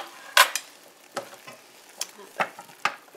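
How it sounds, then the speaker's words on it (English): Gravy in a crock pot pork roast with rutabaga and mushrooms being stirred by hand, a few separate clinking, scraping strokes against the pot at an irregular pace over a quiet background. "stir up a little bit of the gravy in there."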